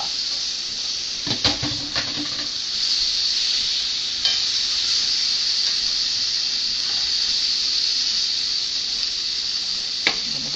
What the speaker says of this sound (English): Return beef to wok. Mix them all together.